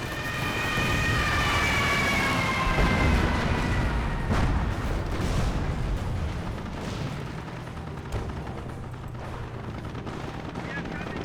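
An off-map artillery barrage rains down in a Company of Heroes battle: dense, continuous rumbling explosions and scattered gunfire wash over each other, with a whining tone fading early on.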